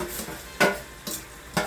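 Chicken being sautéed in hot oil with a ground ginger, garlic and onion paste, a soft sizzle broken by three sharp stirring scrapes at regular intervals, close and without talk.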